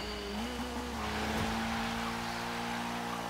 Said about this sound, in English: Right, let's see what this Dodge can do.